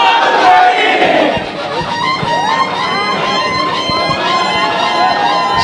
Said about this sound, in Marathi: सगळ्या पुरुषांनी जल्लोष केला.